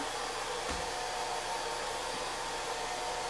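A hair dryer blows with a constant loud whooshing hiss that stays even throughout, with no voices.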